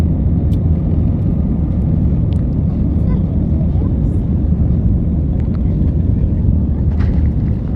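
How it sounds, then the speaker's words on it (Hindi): Etihad Airways A320 airliner climbing after takeoff from Riyadh, heard from the cabin as a steady, loud, low engine roar and rushing air with no breaks. "तो यहाँ पर जहाज़ इस वक्त अब फ़ज़ा में उड़ चुका है।"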